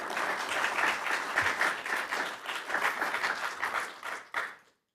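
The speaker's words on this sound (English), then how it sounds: "give them a round of applause" An audience at a live DC mayoral and congressional delegate forum applauds for about four seconds, steady and fairly loud, then tapers off quickly into silence.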